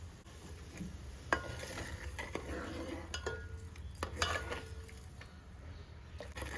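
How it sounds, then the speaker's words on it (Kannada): Roasted cumin and pepper are stirred into pongal with a spoon in a pot, making soft scraping and clinking strokes at an uneven pace. The sound is quiet and close, with a faint sizzle underneath. "ಅದನ್ನು ಈಗ ಇದಕ್ಕೆ ಮಿಕ್ಸ್ ಮಾಡ್ತೀನಿ."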